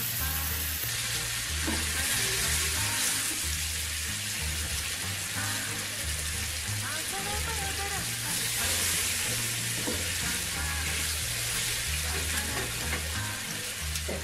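Ingredients frying in hot oil, a continuous loud sizzle with stirring scrapes and occasional bubbling, steady from start to end, with a low repeating hum beneath and no clear speech.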